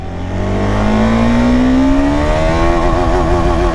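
A KTM 390 Adventure motorcycle accelerates hard in first gear, its engine note climbing steadily in a loud, continuous rising whine with raw exhaust sound close by.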